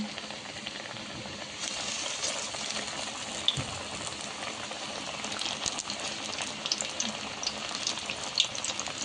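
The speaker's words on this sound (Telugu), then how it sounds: "వేయగానే వెంటనే తిప్పొద్దు, కొంచెం పైన బాగా ఫ్రై అవుతాను" Cowpea vadas deep frying in oil in a kadai, a steady crackling sizzle with bubbling that runs without a break, close and moderately quiet, with no voices.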